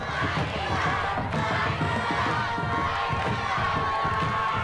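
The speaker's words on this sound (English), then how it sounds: "A very loud crowd having a great time." A loud crowd roars and cheers steadily throughout, with shouts mixed in, in the stands at a 1994 Chatfield vs Broomfield homecoming high school football game.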